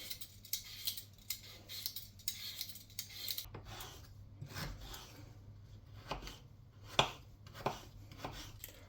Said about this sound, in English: we're just going to peel the potato and then dice it